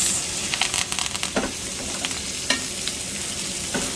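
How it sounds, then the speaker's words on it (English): Ribeye steaks sizzle steadily in a pan of butter with thyme and garlic, the continuous frying hiss broken by scattered spoon scrapes and splatters as butter is scooped over the tops. "And now we start basting."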